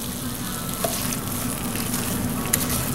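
Onions sizzle and fry steadily in a hot pan while being stirred, a dense continuous crackle at close range with occasional scrape and clink of the utensil, no voices.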